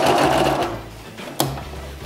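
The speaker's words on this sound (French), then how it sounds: "je vais venir ici écraser mon petit carré pour venir faire une petite couture ici à 5 mm du bord" A sewing machine runs a seam along fabric for a homemade thermal window cover, its motor whirring steadily with a rapid needle rhythm, loud and close, with a brief click near the end.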